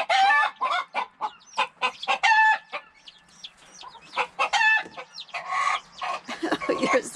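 Loud, close clucking from backyard chickens with a rooster, in rapid bursts, rising into drawn-out squawking calls, with short quiet gaps between the noisy outbursts.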